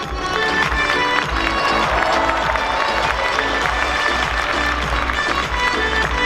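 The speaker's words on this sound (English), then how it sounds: "A huge round of applause for Leah." A crowd at the 2022 DreamHack cosplay contest in Mannheim applauds and cheers loudly and continuously, with music playing underneath.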